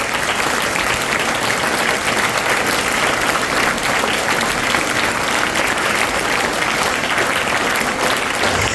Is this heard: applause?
yes